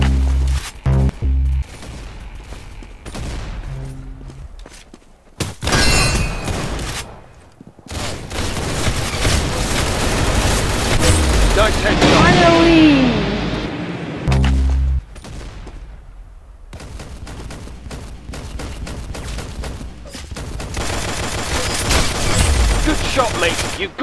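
Gunfire in the Roblox game Arsenal rattles in rapid fusillades and bursts, loud and close, broken by short silent pauses, with voices talking over parts of the shooting.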